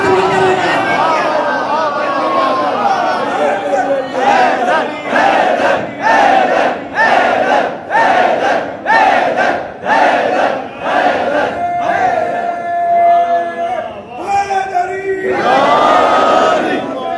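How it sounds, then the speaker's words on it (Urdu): Crowd at a majlis in Korangi, Karachi chanting the Haidar slogan, loud rhythmic massed voices repeating in regular bursts roughly every second, then settling into a murmuring crowd with a single voice rising near the end. "یہ جو ابھی نعرہ لگا تھا نا حیدر حیدر کا"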